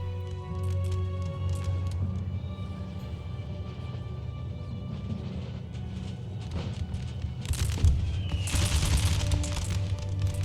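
Musket volleys in Empire: Total War crackle in a continuous distant battlefield din, with a louder ripple of shots and crashes near the end.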